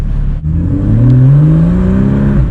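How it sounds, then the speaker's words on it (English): A Porsche 911 Carrera's engine revs loudly while driving down Broadway, its pitch climbing smoothly and steadily, heard close from inside the car. "911 Carrera. Woo. Driving down Broadway."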